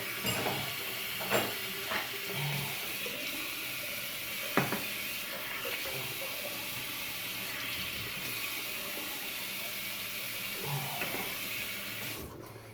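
Shaving lather being rinsed off with running water, splashing and trickling close by with a few clinks of a razor or basin, continuous and unvoiced.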